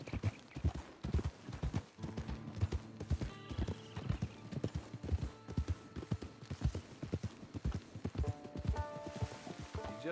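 Horse hooves clip-clopping steadily on a trail in the Red Dead Redemption 2 video game, a close, even rhythm of hoof strikes throughout, with a brief whinny and faint voices in the background.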